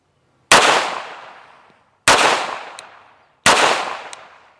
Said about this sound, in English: But let's take the shots and see how we do.